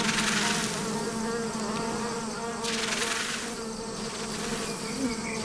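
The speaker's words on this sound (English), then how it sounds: "bees build 3-foot combs that are a rippling wall of bodies" Giant Himalayan honey bees swarm on a three-foot comb, their bodies forming a rippling wall. A dense, continuous buzzing hum holds steady and close throughout.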